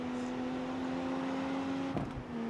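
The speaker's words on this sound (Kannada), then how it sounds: "ಫುಲ್ ಸ್ಪೀಡಿಂದ ರೈಸ್ ಮಾಡಿದ್ದೀನಿ ಎಕ್ಸಲೇಟರ್ನ" A car in the street racing game CarX Street at full throttle, a steady droning engine tone with a held high whine, ending in a brief shift-like dip.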